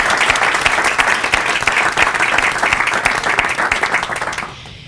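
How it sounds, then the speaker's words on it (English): Sustained, dense applause fills a school library at a future-educator signing ceremony, many hands clapping steadily at close range before it tapers off at the end. "I would just like to give you all a round of applause"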